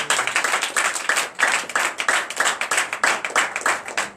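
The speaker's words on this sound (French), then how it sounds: "Donne l'acclamation." Congregation clapping together at a Sunday worship service in a church in Comè, Benin, a steady rhythmic beat of many hands, loud and close with no talking.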